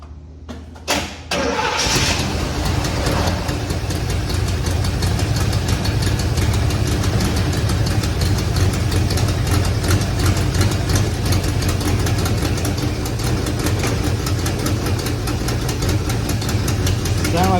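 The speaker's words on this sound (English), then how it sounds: "Sound like we got a little exhaust leak." A 1981 Pontiac Trans Am engine cranks and catches, then settles into a steady idle with a rapid ticking, puffing exhaust tone from an exhaust leak.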